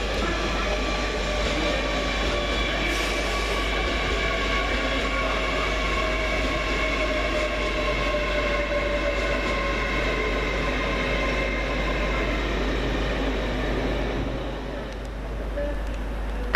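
A Great Western Railway Class 800 train rolls into Reading station with a loud, steady rumble and droning engine tones. The noise holds constant before easing slightly near the end.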